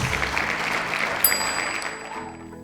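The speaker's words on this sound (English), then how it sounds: "let's give him a round of applause" Applause from a seminar audience, a steady wash of clapping that fades toward the end, with a brief chime partway through.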